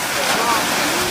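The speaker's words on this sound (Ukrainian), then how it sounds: "Хвилі, хвилі, хвилі." Black Sea waves at Cape Tarkhankut in Crimea, a steady broadband wash of surf heard close and fairly loud for a brief moment, with some wind noise.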